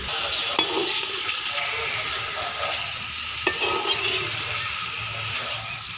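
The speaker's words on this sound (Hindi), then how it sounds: "घी में इसको फ्राई करेंगे।" Food frying in hot ghee for a spicy egg ghotala gives a steady, close sizzle and crackle that runs the whole time, with a couple of sharp clicks partway through and no voices.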